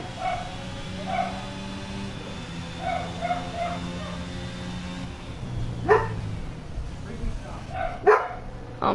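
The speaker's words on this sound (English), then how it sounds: "And that is my dogs barking there in the background." Pet dogs barking and yipping in the background of a room during a virtual Formula 1 race at Bahrain, several short barks spread across the clip under ongoing male speech.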